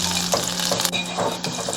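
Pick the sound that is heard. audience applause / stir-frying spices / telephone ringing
stir-frying spices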